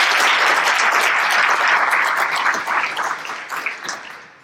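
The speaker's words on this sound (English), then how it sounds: "Big cheer." Audience applause with cheering at a talk on performance and architecture, dense and loud clapping from a large crowd that swells and then slowly thins out toward the end.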